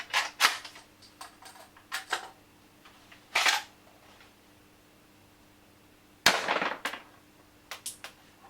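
An airsoft gas-powered shell-eject shotgun running on green gas fires three sharp shots with pauses between, each a crisp pop followed by small clicks and rattles of handling, close and otherwise quiet.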